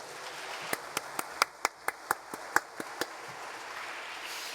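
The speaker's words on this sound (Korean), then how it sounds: "다시 한번 우리 목사님 뜨거운 격려의 박수 한번 드리겠습니다" A dozen or so sharp, separate hand claps ring out one after another at a church mission conference in Busan, a thin, sparse round of applause for the pastor that fades after a few seconds.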